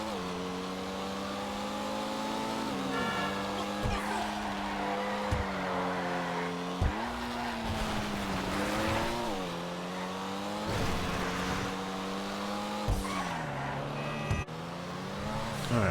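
A Pfister Comet SR, a rear-wheel-drive car in a video game, drives with a continuous engine drone that climbs in pitch and drops sharply at each gear shift, repeating through several upshifts at close range.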